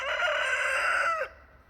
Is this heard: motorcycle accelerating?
no